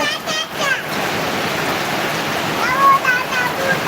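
Heavy rain pours in a steady, dense hiss that fills the whole clip, with splashy water noise and a voice murmuring faintly underneath.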